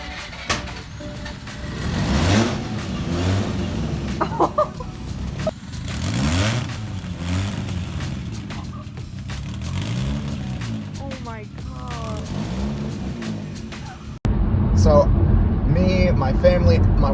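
A Mazda RX-8 rotary engine cranks on its first startup, catches and revs in rising and falling bursts, loud and close, with people talking over it.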